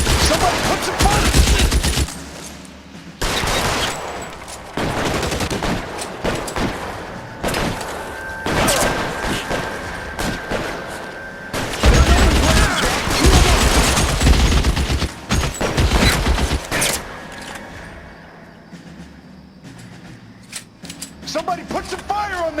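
Film battle scene with sustained gunfire: rapid bursts and heavy impacts crowd the whole stretch, with loud volleys starting and stopping in clusters and shouting voices mixed in among the shots.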